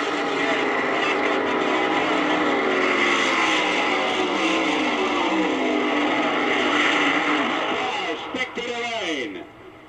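Drag cars at the 1971 AHRA Summer Nationals, including a Missouri-based Mustang, roar loudly down the strip in a sustained engine blare, then the sound drops and trails off as they pull away.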